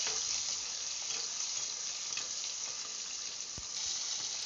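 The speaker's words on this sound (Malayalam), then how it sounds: "ചുവന്നുള്ളി എല്ലാം ചേർത്ത് നന്നായിട്ട് വറുത്തെടുക്കണം" Sliced shallots fry in hot oil in a pan until brown for a Kerala pappadam chammanthi, giving a steady, close, dense sizzle that holds evenly throughout with no talking.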